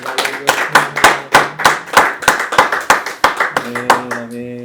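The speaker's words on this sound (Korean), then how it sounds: "우리 하나님께 영광의 박수 올려드렸으면 좋겠습니다" A congregation at a Tuesday praise and worship service claps in unison, with sharp, regular beats at a brisk, even rhythm. Music or singing runs faintly beneath the claps, and the clapping gives way to a sustained tone at the end.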